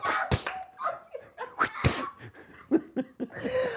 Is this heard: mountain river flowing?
no